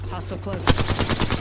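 Rapid automatic weapon fire in Apex Legends, a short burst of evenly spaced close, loud shots following a sharper opening crack, over background game sounds.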